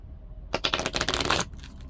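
A deck of cards for the board game Bomb Run: Outta Time is riffled in one quick burst of crisp fluttering snaps, close and loud, after a quiet start and before a soft tail.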